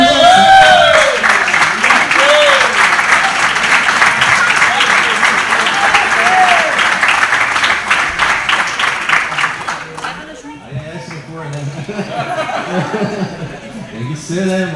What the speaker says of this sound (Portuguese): aplaudindo o Senhor Jesus.